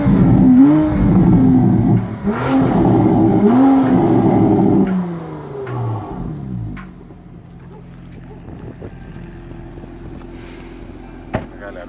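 A Porsche Panamera plug-in hybrid engine revs hard three times in quick succession, each rise climbing sharply in pitch, then the engine settles back to a quieter, lower idle hum.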